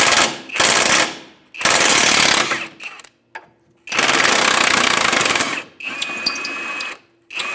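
Impact gun on a 2007-2013 Acura MDX rear suspension backing out the 17 mm shock bottom bolt from its captured nut, loud close hammering bursts in several runs separated by short silences.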